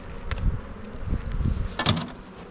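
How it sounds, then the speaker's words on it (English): Honeybees shaken off a hive frame buzz in sharp, close bursts, rising and falling in swells over a constant hum from the colony. "So I'm going to go shake those guys off."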